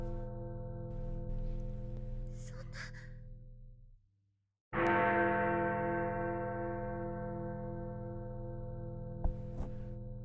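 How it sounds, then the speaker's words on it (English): A heavy bell tolls as a clock strikes midnight in the visual novel Flowers -Le Volume sur Hiver-, its long resonant hum breaking off briefly before a fresh loud strike rings out and decays slowly. "The heavy toll of the bell echoed to the space between them."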